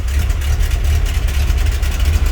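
A boat's inboard engine idles steadily after its carburettor idle control screw has been adjusted, a continuous low rumble close by with no talking.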